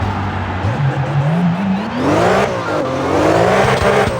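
A car drifting in CarX Drift Racing 3, a loud sustained tire squeal over a revving engine whose pitch climbs and wavers, close and continuous throughout.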